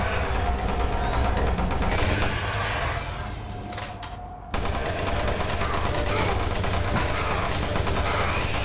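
Doom 3 co-op gunfire, dense rapid bursts of shots with a loud unbroken roar, one brief dip partway through before the barrage resumes at full strength.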